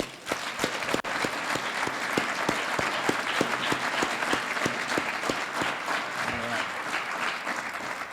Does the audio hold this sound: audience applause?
yes